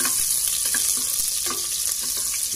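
Chopped garlic sizzles steadily in hot oil in a pan, a close, continuous crackling fry with small pops and no voices.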